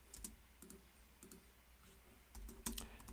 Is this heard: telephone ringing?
no